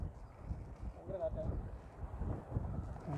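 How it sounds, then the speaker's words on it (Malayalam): Wind buffets the microphone on a dam reservoir during a coracle ride, a steady low rumble of gusts with faint water and boat sounds, and voices talking briefly over it. "നല്ല കാറ്റുണ്ടല്ലേ"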